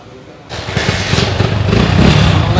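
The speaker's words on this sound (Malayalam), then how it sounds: "നമ്മൾ ഈ രണ്ടായിരത്തി പത്ത് മോഡൽ ജസ്റ്റ് ഒന്ന് സ്റ്റാർട്ട് ചെയ്യാണ്" A 2010 Hero Splendor motorcycle engine starts close by and settles into a steady running rumble after a quiet first half second. A voice talks over it.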